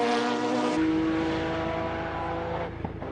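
Porsche 911 GT1 race car of team Kremer at Le Mans in 1997, its engine howling loud and close in a sustained high-revving pass, the pitch dropping near the end with a brief mechanical rattle.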